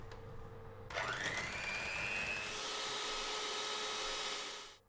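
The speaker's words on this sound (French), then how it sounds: "Je vais battre à l'aide d'un fouet électrique pour obtenir une mousse bien onctueuse." An electric whisk switches on and whirs up to speed beating whole eggs with sweetener, a rising motor whine settling into a steady buzzing hum that stops at the end.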